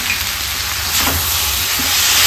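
Egg chilli frying over a high flame in ketchup, green chilli sauce and soy sauce, a loud, steady close-up sizzle and hiss with no break.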